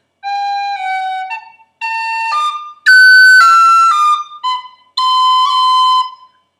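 A tin whistle plays a short lilting tune from The Connachtman's Rambles in separate phrases, with quick ornamented flicks between bright, high notes and brief breaths between phrases.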